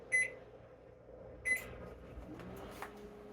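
A microwave oven melting butter that came from the freezer gives two short electronic beeps a second and a half apart, followed by soft clunks, over a faint hum.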